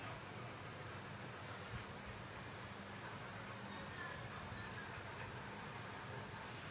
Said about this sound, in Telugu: ఇది వచ్చి దుర్గం చెరువు మెట్రో స్టేషన్ అండి